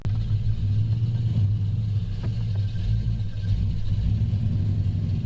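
A revived Jeep Grand Wagoneer, seized after sitting for years, rolls along under its own power with a steady, loud low engine rumble and road noise throughout, a few faint clicks over the drone.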